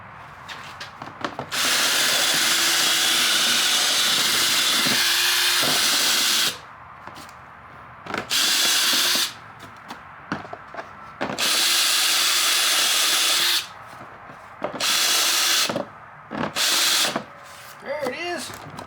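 A power drill reams out a hole in a plastic hydroponics bucket in loud broadband bursts of a few seconds each, separated by short pauses, with a voice heard faintly between runs.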